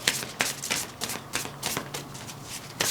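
Oracle cards shuffled by hand during a tarot reading, a quick run of crisp riffling flicks repeating in a steady rhythm, close and fairly loud, with no talk.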